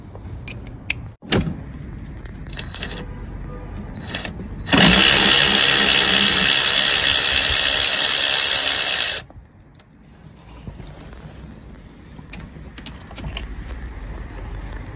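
Ratchet or power tool loosening a 12mm bolt on the gear cable bracket of a Peugeot 107 during clutch replacement; a single loud burst of about five seconds, preceded and followed by faint clicks and handling noise, no talk.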